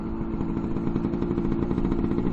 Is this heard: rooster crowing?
no